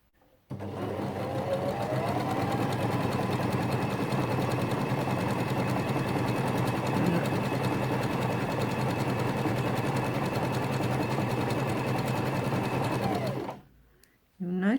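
A Janome FD206 (RE1306) sewing machine runs a small zigzag stitch, a steady, loud mechanical whir with fast regular needle ticking that holds without a break for about thirteen seconds before stopping abruptly.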